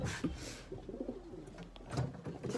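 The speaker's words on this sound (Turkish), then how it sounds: "Şöyle uçan kuşlarımız geliyor." Domestic pigeons, including white Adana birds, cooing and rustling close by in a loft, with soft low coos and wing flutters recurring over a few seconds.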